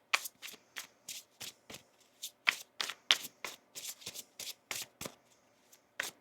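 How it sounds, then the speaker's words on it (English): Tarot cards are shuffled by hand in a quick run of soft, crisp riffling bursts, about fifteen in a steady rhythm, close and quiet with no talking. "One more shuffle here."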